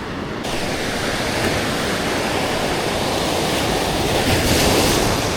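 Ocean surf and swell wash continuously onto a reef-lined shore in North County San Diego, a dense, steady roar of breaking waves with no voices.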